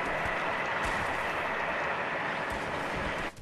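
A train passing close by near the seaside, a loud, dense rushing rumble that holds steady for a few seconds and then cuts off abruptly.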